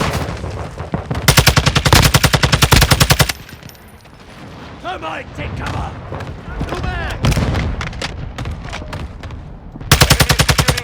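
Rapid automatic gunfire from a TAQ-56 rifle in Call of Duty Modern Warfare II, loud close bursts at the start and end with scattered shots and game sounds between, while someone talks over the action.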